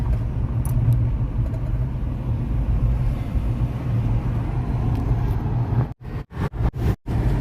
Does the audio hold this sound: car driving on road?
yes